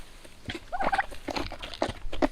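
Several turkeys gobbling close by, short warbling bursts repeating in quick succession with no talking.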